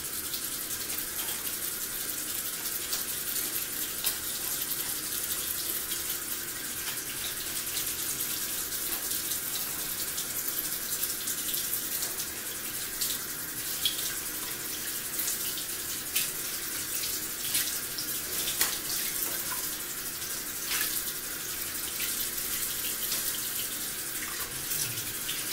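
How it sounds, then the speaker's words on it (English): A kitchen or bathroom tap runs in a steady, unbroken stream for hand washing, a constant close hiss that never pauses and carries no voices. "let me wash my hands, y'all. Let me wash my hands. I got to wash my hands."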